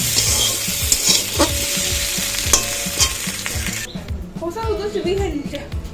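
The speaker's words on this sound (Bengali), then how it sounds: "এবার আমি সর্ষের জলটা দিয়ে দেবো" Loud frying sizzle of okra with spatula scraping, then a sudden hush as mustard water hits the pan and the crackle softens; a person talks over it.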